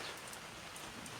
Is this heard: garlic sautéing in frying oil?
no